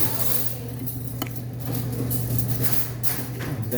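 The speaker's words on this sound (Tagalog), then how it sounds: "pwede nang ihalo itong salad of the day" Salad ingredients being tossed and mixed with utensils, a continuous close clatter and scraping of metal against a bowl with occasional sharper clinks, over a low steady background hum.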